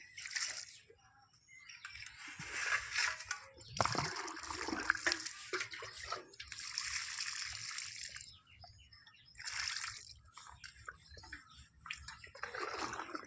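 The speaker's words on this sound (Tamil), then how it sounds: "அடுத்தது தண்ணி விட்டுடலாம் நண்பர்கள்" Water splashes and trickles in uneven bursts, poured from a container onto the soil of a newly planted white-yellow rose, with faint birdsong in the background.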